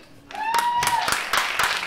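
A comedy club audience gives a handful of scattered claps, sharp and separate rather than full applause, with a voice sounding through at the start.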